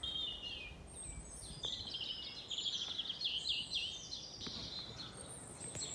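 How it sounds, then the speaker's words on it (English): Faint birdsong chirps and trills rise above a soft, steady outdoor hiss, with several birds calling intermittently in the distance. "Listen to the birds."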